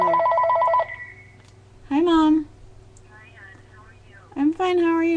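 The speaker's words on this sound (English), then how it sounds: "There's our phone." A landline telephone rings with a repeated electronic trill in short bursts at the start, loud and close, followed by people talking; the setting is a home craft table.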